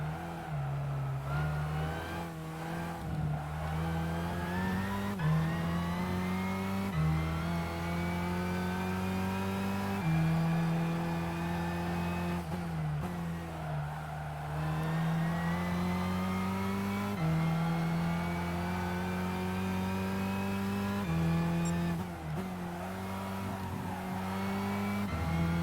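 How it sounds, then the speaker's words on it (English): A Nissan GT-R race car with a GT300 body and GT500 power revs hard in Gran Turismo 5, a loud, steady engine drone rising and falling through gear changes for the whole stretch, with no talk over it. "it's basically a GT300 body GTR with GT500 power under the hood"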